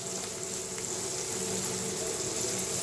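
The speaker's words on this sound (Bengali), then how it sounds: "মাছটা ধুয়ে নিচ্ছি" Running tap water pours steadily over fish being washed in a kitchen sink, a constant close hiss with no pauses.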